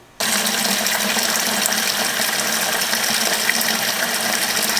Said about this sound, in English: Now to get this testing started, we're going to go in and fill our bucket up with water.